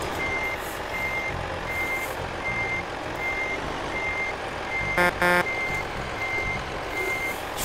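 A truck's reversing alarm in the Euro Truck Simulator 2 multiplayer game beeps in a steady, evenly spaced rhythm over a low engine rumble, with a brief burst of another warning tone partway through and no talking.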